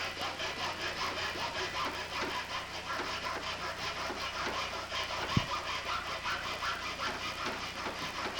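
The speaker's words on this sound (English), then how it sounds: "so that little corner has to be cut off with a hacksaw" A hacksaw cuts a corner off a part of a car dashboard build, steady back-and-forth rasping strokes repeating evenly and close up, with one sharp knock partway through.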